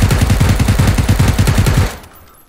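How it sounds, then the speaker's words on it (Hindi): Rapid automatic gunfire in a multiplayer shooter video game, a steady, loud burst of evenly spaced shots lasting about two seconds before cutting off abruptly. "तो गोलियां चलाओ क्या थोड़ी?"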